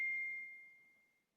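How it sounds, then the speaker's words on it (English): A phone's text message alert gives a single clear bell-like ding that rings out and slowly fades over about a second in a quiet setting. "I'm getting a text message."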